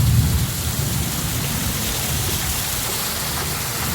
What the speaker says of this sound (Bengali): দেখো কলকাতায় এসে বৃষ্টি।